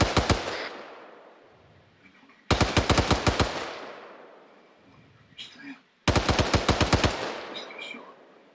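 A squad machine gun fires in training with the bipod unused, three loud, close bursts of rapid shots a couple of seconds apart, with quieter movement and faint voices in the gaps.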